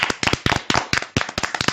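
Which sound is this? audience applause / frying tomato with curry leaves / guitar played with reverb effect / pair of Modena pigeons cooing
audience applause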